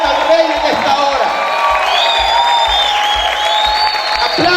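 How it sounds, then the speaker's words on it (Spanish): A church congregation claps, whistles and shouts at a service, loud sustained applause with rising whistles and cheers mixed with voices. "¿Cuántos pueden chiflar, gritar y aplaudir fuerte al Rey en esta hora?"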